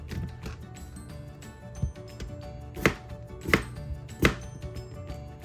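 A real kitchen knife chops half a tomato on a cutting board, giving several sharp, close thuds spaced about a second apart over a faint background hum.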